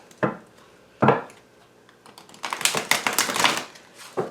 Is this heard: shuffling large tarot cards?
yes